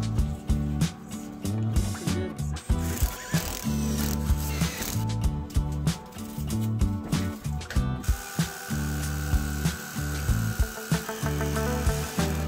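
A power drill whines and grinds in repeated bursts, starting and stopping, loud and close, drilling a hole up through a van roof for a roof vent.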